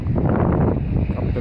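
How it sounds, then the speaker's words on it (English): Loud, low wind roar on top of Cape Smokey, a chilly mountain top, buffeting the microphone in a brief, steady rush with no voices. "It's a little windy, a little chilly"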